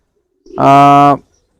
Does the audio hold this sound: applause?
no